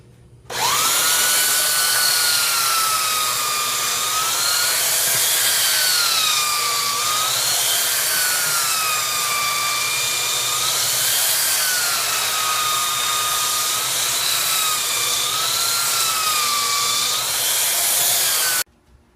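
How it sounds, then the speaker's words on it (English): A belt sander with coarse grit runs over glued wood strips: a loud, continuous motor whine whose pitch wavers up and down for about eighteen seconds, then stops abruptly. "I put the belt sander on there with a coarse grit to fill up the cracks with the sawdust to stick to the wet glue"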